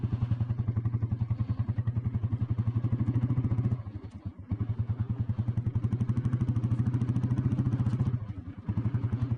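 An old petrol Royal Enfield Bullet motorcycle runs in first gear, its single-cylinder engine thumping in a steady, close, loud rhythm that briefly dips twice before picking back up.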